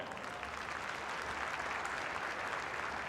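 Sustained audience applause fills the hall at a Nebraska girls' state basketball championship, a steady, even wash of many hands clapping at moderate distance with no voices standing out.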